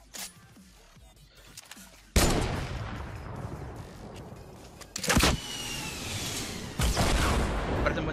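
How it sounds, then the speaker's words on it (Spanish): Gunfire in the video game Fortnite, with sharp loud bursts at intervals followed by sustained noisy rattling, over quiet game background. "Parece un buen disparo."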